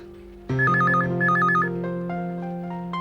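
A phone rings loudly nearby with a warbling electronic trill over a steady tone, repeating twice before the sound settles into sustained notes.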